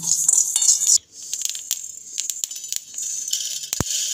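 Whole spices dry-roast in a pan for a sour-spicy-sweet amla pickle, giving scattered close crackles, light pops and metallic scrapes and clinks of stirring, with a brief lull before the popping resumes.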